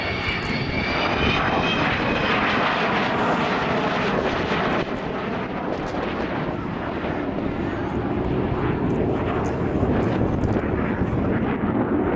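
Avro Vulcan XH558 flies overhead at an air display at Throckmorton, its engines giving a loud, continuous roar with a high howling whine. The roar swells and shifts slowly as the bomber passes, over wind buffeting the microphone.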